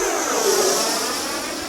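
An FMS Avanti 90mm EDF RC jet flies past, a steady loud ducted-fan whine and rushing roar that holds evenly throughout.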